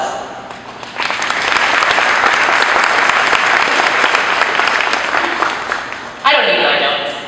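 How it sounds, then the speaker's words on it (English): A school-event audience breaks into sustained, loud applause for about five seconds, a dense wash of many hands that swells quickly and then tapers. A voice briefly comes in at the edges. "I want to give everybody here a round of applause"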